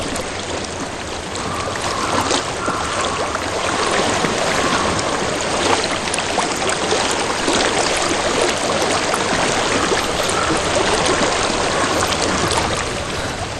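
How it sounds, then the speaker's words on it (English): A stream flows steadily in the game Hellblade: Senua's Sacrifice, a continuous, full rushing and trickling of water that holds an even level throughout with no speech. "I hear water."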